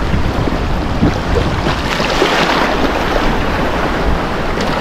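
Sea waves wash onto a sandy shore in a steady, loud rush of surf and water, with wind buffeting the microphone and no voices.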